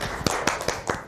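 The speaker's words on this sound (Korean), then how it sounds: "뜨거운 박수로 맞이해 주시면 감사하겠습니다" A crowd applauds warmly as a pastor who chairs a small-library council in Gunpo is welcomed on stage, a short burst of dense clapping with a few sharper accented claps.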